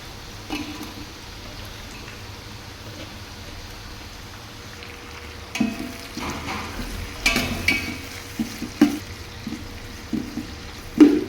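Tomatoes hit a hot pan of roasting masala for a country-chicken biryani, a soft steady sizzle with scattered stirring clatters and louder scrapes building toward the end.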